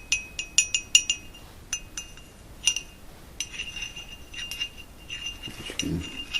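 Antique milk glass, a fine piece first made in Venice, tapped repeatedly to give bright clinking tones in quick clusters, close and clear, with softer rustling handling between the taps.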